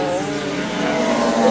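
500cc Grand Prix racing motorcycles accelerating on a straight: a loud, sustained, high-pitched engine wail that rises slightly and holds steady without any talk.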